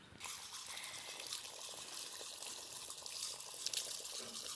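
Running water from a tap rinses washed hair over a sink, a steady close splashing and trickling stream that continues throughout without speech.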